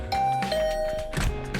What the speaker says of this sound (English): I rang Gaku's doorbell.